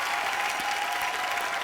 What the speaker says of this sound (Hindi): इनके जोरदार तालियां इनके लिए